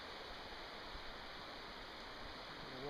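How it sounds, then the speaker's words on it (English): A waterfall on a creek gives a steady, faint hiss of rushing water, continuous and unbroken, heard from a distance with no talking. "The waterfall over there"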